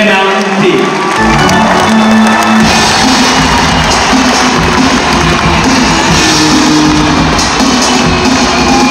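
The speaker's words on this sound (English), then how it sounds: "please give him a warm welcome and a round of applause" A loud audience cheers, whoops and applauds to welcome PBA basketball player Ali Peek. The roar of the crowd stays continuous and close, with shouts mixed into the sustained applause.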